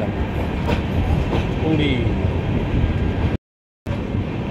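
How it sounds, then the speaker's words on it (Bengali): The Puri–Howrah Shatabdi Superfast Express pulls out of the platform at Puri, a steady rumble with faint clickety-clack of wheels under some speech, then a brief dropout of silence before the rolling continues. "ব্যাস পুরীর প্ল্যাটফর্ম আমরা ছেড়ে দিলাম।"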